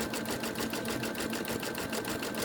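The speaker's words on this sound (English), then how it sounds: "And let the machine move the fabric as it needs to." A sewing machine runs a zigzag stitch across joined placemat fabric sections, a fast, steady mechanical chatter at close range that holds an even rhythm from start to finish with no voices.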